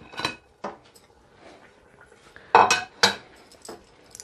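A spoon stirring afang soup in a pot, giving a few scattered metallic clinks and scrapes, close and moderately loud, with two stronger knocks near the end.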